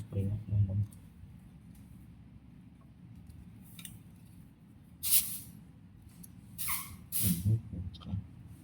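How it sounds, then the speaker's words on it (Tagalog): Short hissing bursts of mosquito insecticide spray, several quick puffs near the end, close by, with low room noise and faint handling sounds between them. "Tapos, spray na ng lamok."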